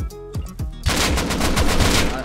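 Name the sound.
AK rifle gunfire in the video game Rust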